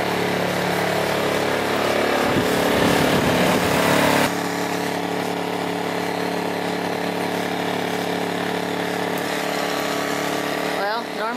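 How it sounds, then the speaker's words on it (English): A portable generator at an off-grid cabin runs with a loud steady engine drone, then is switched off and winds down to a quieter lingering hum, with a voice talking over it. "It's warmed up quite a bit, so I'm gonna go ahead and shut the generator down."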